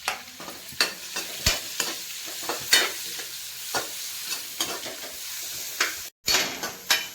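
Sliced onions and green chilies hit hot oil in a pan for a fish sukka, crackling in a continuous sizzle broken by repeated scraping strokes of a spoon stirring, with one brief dropout near the end.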